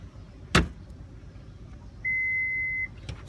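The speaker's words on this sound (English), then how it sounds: "Whereas the tailgate's rear glass will open up separate." Rear glass on a 2016 Toyota Highlander tailgate opening on its own: a sharp latch clunk, then a steady electronic beep lasting under a second, ending with a faint click.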